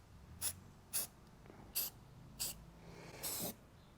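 Self-etching automotive primer sprays in short bursts onto an aluminum lawn mower deck, five crisp hissing puffs close to the mic, with the last one held slightly longer.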